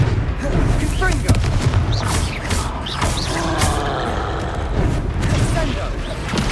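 Fiery spell blasts in the video game Hogwarts Legacy, a dense run of booming bursts and crackling impacts over continuous battle noise and music, loud and busy throughout the clip.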